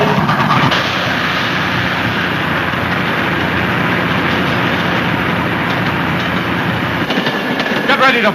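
A train runs steadily on its rails in a dramatic serial, a loud continuous rumble and clatter filling the whole stretch with no break.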